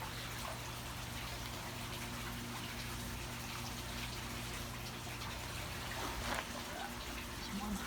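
A small fountain in a marine lab aquarium lets a thin stream of water trickle, making a steady watery wash over a low pump hum that holds evenly and swells slightly near the end.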